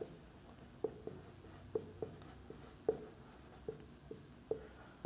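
A pen writes an answer on paper, soft scratching strokes with light taps every half second or so, close and quiet, with no voices.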